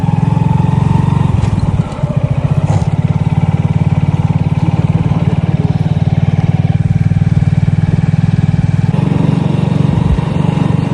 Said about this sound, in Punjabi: ਹੁਣ ਅਸੀਂ ਮੋਟਰਸਾਈਕਲ ਤੇ ਵੀਡੀਓ ਬਣਾਉਣ ਲੱਗੇ ਹਾਂ